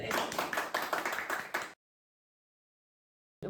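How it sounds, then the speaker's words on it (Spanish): A burst of clapping greets an invited guest on a talk show, quick, close claps lasting under two seconds before cutting to silence. "vamos a recibir a nuestro invitado con un fuerte aplauso"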